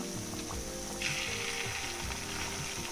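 Spoonfuls of banana batter fry in hot oil, giving a steady, close sizzle with crackling bubbles and no talking.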